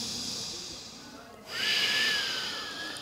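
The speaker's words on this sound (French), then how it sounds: "Garde des respirations Ujjayi" Ujjayi breathing during yoga practice, a close, soft hissing inhale followed after a brief pause by a longer, airy exhale with a faint throaty whistle.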